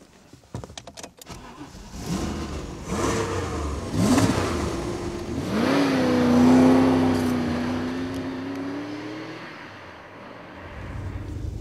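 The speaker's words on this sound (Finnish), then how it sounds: "Tämä raju V8 rauta on Saab 9-tonninen" A Saab 9000 with a powerful Finnish-built V8 cranks and fires, then revs up in a long rising and falling sweep before settling, loud and close with no talk.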